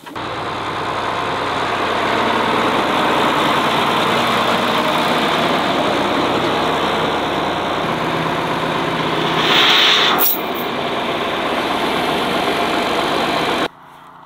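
A large farm tractor engine idles loudly and steadily with a deep rumbling drone, briefly rising near the end before cutting off abruptly.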